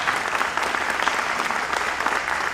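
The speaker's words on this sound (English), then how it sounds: "Let's give them a big round of applause" Big round of applause from a large audience at Bob Hope's 75th anniversary USO show, steady dense clapping filling the whole moment at a strong, even level with no voices over it.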